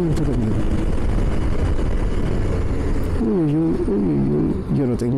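Steady engine drone and wind rush from a Honda Invicta motorcycle riding toward Laguna del Inca, the engine pitch rising and falling near the end, with a rider's voice speaking over it.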